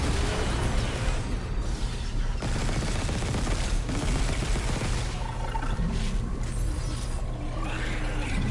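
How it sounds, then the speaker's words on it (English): Dense, loud video game gunfire from a pulse rifle with explosive blasts and mechanical clatter runs without a break, harsh and close throughout. "I was gonna say that this explosion didn't kill it"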